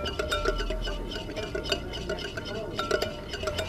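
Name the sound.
whisking salad dressing in a bowl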